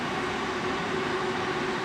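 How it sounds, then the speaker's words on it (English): A train passing by nearby outdoors, heard as a continuous broad rumbling roar with a steady tonal hum, loud and unbroken for the whole stretch with no talk over it. "Just waiting for the train to go past."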